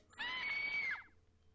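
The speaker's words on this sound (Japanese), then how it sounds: "建物のどこかから悲鳴が聞こえてきた" A single scream rings out from somewhere inside a building, a sustained high-pitched cry of just under a second that cuts off abruptly. It is moderately faint with no talk around it.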